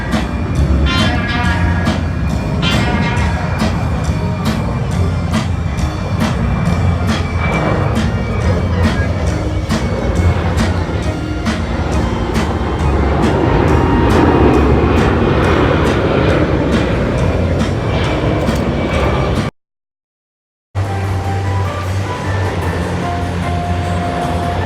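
A C-17 military transport aircraft flying at an airshow in Moses Lake makes a loud, steady roaring rumble that holds for about twenty seconds. Near the end it cuts out briefly, and then the roar returns.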